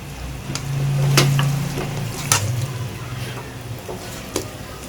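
Chicken with yogurt and dried fenugreek cooks in a pot with a soft, steady sizzle. A few sharp clinks of a spoon against the pot break in now and then.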